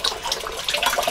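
Water runs from a tap fed by a solar-powered pump, a loud, close, continuous splashing gush with fluttering bursts for about a second.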